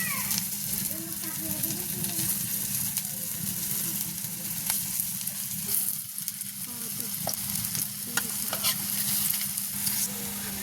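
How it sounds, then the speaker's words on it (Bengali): Taro leaf fritters frying in hot oil give a steady, loud sizzle throughout, with faint stirring clicks now and then. "আমাদের তেলটা গরম হয়ে গেছে, আমরা দিয়ে দেবো।"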